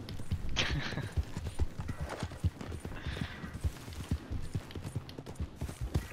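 Horse hooves galloping in Red Dead Redemption 2, a rapid rhythmic clip-clop of close, loud hoofbeats with a brief whinny and faint background sounds.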